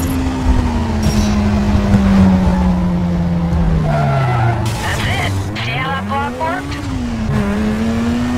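Race cars in Need For Speed Carbon skid and slide, tires squealing under a loud engine drone that dips and swells in pitch, with repeated screeches through the middle and a voice talking over the action.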